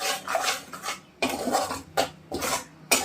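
Fenugreek powder roasting in a pan over low heat, stirred continuously: repeated close bursts of scraping and clattering as the spoon sweeps the pan, separated by brief pauses.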